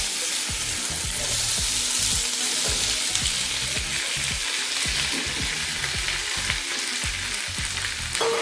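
Finely chopped onions fry in hot oil with cumin, garlic and curry leaves for a fenugreek curry, giving a continuous close sizzle broken by repeated scraping stirs of a spoon against the pan.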